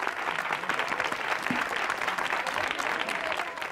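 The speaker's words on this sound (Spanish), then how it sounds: "Y esto merece un serio aplauso." Studio audience applause at a Spanish television quiz show, a dense, steady wash of many hands clapping that holds at an even level throughout.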